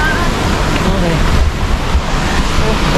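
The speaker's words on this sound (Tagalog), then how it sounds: "So yan ang falls." Water pours steadily at a waterfall beside a lake where people swim. The rushing wash is loud and continuous, with wind buffeting the microphone.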